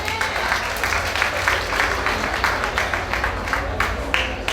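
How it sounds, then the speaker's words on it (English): Audience applause at a JAHJAH Foundation fundraiser in Manchester, a steady wash of many hands clapping close by, sustained and even for several seconds with a faint voice underneath. "Give yourself another round of applause."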